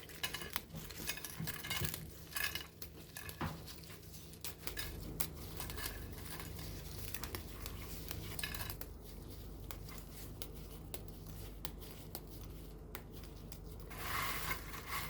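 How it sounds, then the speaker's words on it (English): Store-bought biscuits being smashed and cracked into small pieces in a bowl for a no-oven chocolate cake, giving a steady run of close, dry crunching and clinking against the bowl with no talking. "cracking our biscuits into small pieces."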